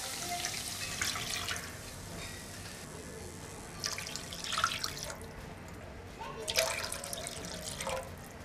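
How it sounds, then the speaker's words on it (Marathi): Water poured from a vessel into a cooking pot while making a vegetable soup in a home kitchen, heard as three separate splashy bursts of pouring with quieter pauses between them, fairly close and with no talk over it. "आता यामध्ये मी 3 कप पाणी घालते."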